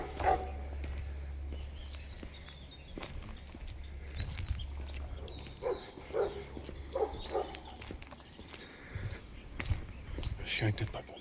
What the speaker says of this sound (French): Le chien est peut-être pas content.